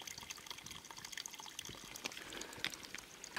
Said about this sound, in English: there's this old rusted pipe that still seems to be working well at flowing water out